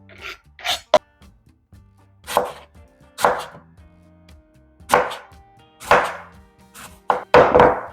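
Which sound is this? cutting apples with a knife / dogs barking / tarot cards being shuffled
cutting apples with a knife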